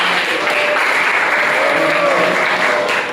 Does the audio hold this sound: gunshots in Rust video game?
no